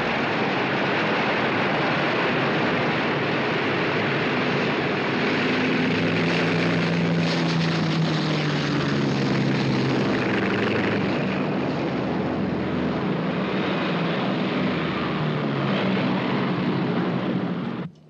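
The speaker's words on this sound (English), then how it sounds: "CIC, 2 unidentified planes inbound at 20 miles." Propeller aircraft fly overhead in a 1959 World War II naval war film, a loud, continuous droning roar that swells and shifts in pitch over many seconds before cutting off abruptly.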